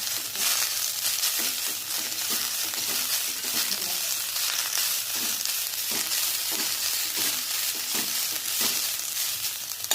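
Curry leaves and coriander sauté in a hot oiled pan, giving a steady, dense sizzle that runs for the whole stretch, with faint scrapes and stirring noises underneath.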